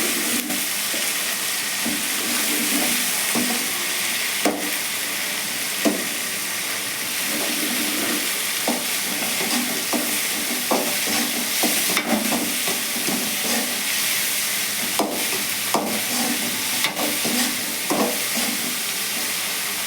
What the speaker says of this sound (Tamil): இப்போ தக்காளியும் கருவேப்பிலையும் சேர்த்துக்கலாம் நல்லா வதங்கணும்